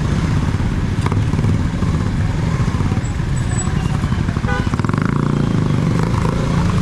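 A motorcycle rides steadily along a shortcut road toward home, its engine droning loud and continuous with road noise throughout, and a brief clatter partway through.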